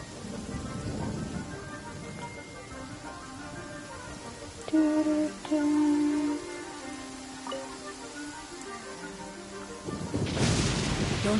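Thunder rumbles alongside steady rain inside the video game Genshin Impact, with game music tones layered over it and a heavier burst of crackling near the end.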